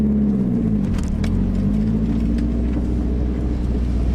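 A car engine rumbles loud and steady at close range through a tight drift donut with the clutch dumped, with faint clicks and tire scrubbing over the drone and no speech.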